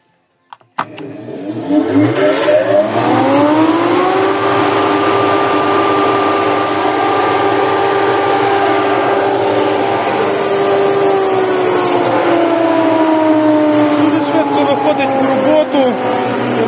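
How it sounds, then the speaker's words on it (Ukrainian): A 220 V, 4.8 kW vacuum hay cutter with a turbine spins up from a click to a loud, steady whining drone, rising in pitch over the first few seconds and then holding nearly constant. "Якщо є вольтаж 3-4 секунди і все, і сінорізка вже в роботі."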